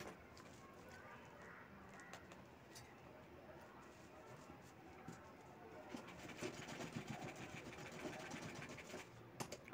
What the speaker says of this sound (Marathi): शिलाई थोडी मागे पुढे करून बेल्ट बसवला की बेल्ट हा मजबूत बसतो